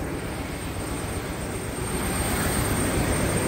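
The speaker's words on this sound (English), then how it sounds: "By private jet." Steady broadband roar of a private jet's engines, loud and constant throughout with no breaks, heard from inside or near the aircraft as it prepares to fly.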